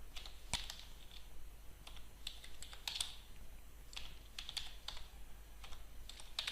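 Computer keyboard typing on an Ubuntu machine, scattered soft clicks in short clusters, quiet and close over a faint steady hum.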